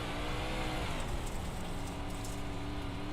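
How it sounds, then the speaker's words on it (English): A race car engine roars nonstop on the dirt track at Williams Grove, a loud, dense, steady drone with small shifts in pitch as the throttle is worked. "You can hear Isaac working the throttle, working the steering wheel."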